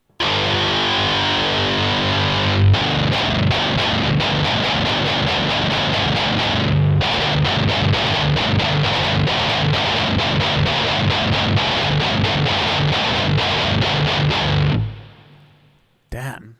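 A new seven-string electric guitar played loud with heavy distortion, all dense chugging riffs and sharp chopped chords that run continuously for about fifteen seconds before cutting off abruptly.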